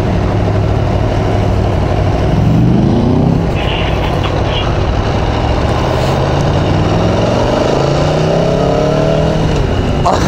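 A motorcycle on a 2018 road test revs hard, with rising engine sweeps around the third second and again near the end over a steady close drone and wind roar.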